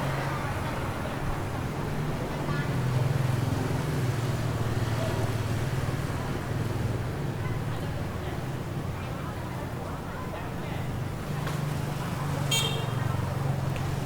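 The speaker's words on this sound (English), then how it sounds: "Man, those car horns, you can hear them all the way inside the building." Car horns honk in long sustained tones on a road outside an abandoned building, muffled and steady under continuous traffic rumble, with a brief sharper toot near the end.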